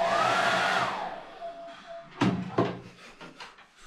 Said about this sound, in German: Ich dachte immer, zum Schluss wird geföhnt